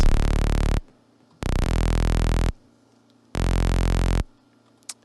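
A melodic dubstep synth bass plays alone, without chords, as three long sustained notes separated by short silences, loud and buzzy, with a small click at the end.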